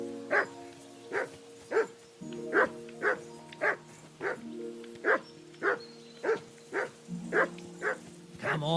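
In Kingdom Come: Deliverance 2, a dog barks persistently, about a dozen regular barks roughly two-thirds of a second apart, over low sustained music.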